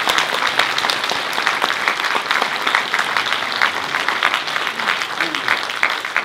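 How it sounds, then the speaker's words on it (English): An audience claps enthusiastically after a film screening Q&A, a dense steady applause sustained throughout without pause. "Ladies and gentlemen, big round of applause for the creators"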